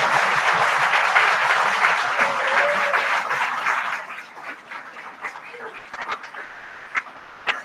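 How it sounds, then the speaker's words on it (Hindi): A lecture audience claps in a loud, dense burst that fades out after about four seconds, leaving scattered single claps and light room noise. "तालियां आपने पहले भी बजाई थी, अभी भी मैंने बजवा ली"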